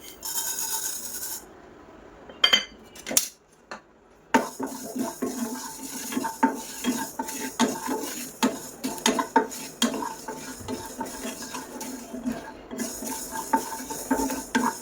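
Fenugreek seeds fry in a pan for amla pickle while a spoon scrapes and clinks against the metal in a close, irregular stirring rhythm after a few sharp knocks at the start.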